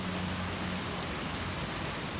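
Steady rain falling in a park during a walk, a constant dense patter of raindrops close by with no talking.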